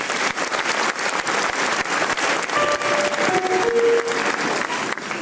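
An audience at a law lecture honouring a legal career bursts into a sustained round of applause, dense clapping close and steady throughout, with a few brief tonal sounds briefly rising above it.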